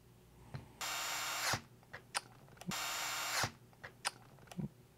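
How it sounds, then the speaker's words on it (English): A power screwdriver drives 2mm hex screws into an RC truck axle on a Losi LMT, two whirring bursts of about a second each, close and clear, with small clicks and taps of parts between them. "we're going to screw this in with the four 2mm hexes that are supplied"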